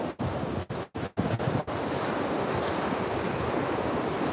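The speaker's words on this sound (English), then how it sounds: "The beach is very busy this morning." Surf washes steadily at a busy ocean beach, a continuous broad roar mixed with wind noise on the microphone, with several brief dropouts in the first two seconds.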